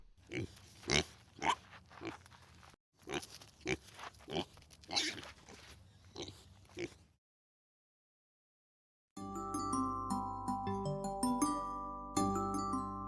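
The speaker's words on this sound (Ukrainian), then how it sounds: "А це хто так кумедно хрюкає? Це ж порося." Piglet grunting on a farm: a run of short, rhythmic oinks and snorts close up, after a stretch of silence that follows earlier animal calls.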